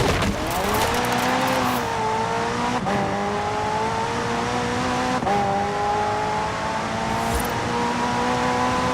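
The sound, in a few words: McLaren hybrid twin-turbo V8 car driving in video game Forza Horizon 4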